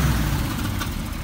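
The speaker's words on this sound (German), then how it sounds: "Machen wir mal ein Video vom laufenden Motor" The V8 engine of a 1977 Chevrolet C10 idles with a deep, steady low rumble, close and moderately loud, heard alone in a brief stretch.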